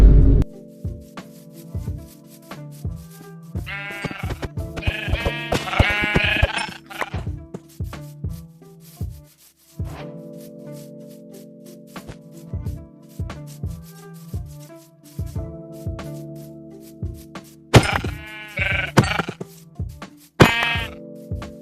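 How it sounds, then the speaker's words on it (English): Sheep in a cozy café-themed video game bleat repeatedly in short bursts as they are killed one after another on a hill, with clinking and rubbing game sounds filling the gaps. "here's gonna be a little speed run of us killing a lot of sheep"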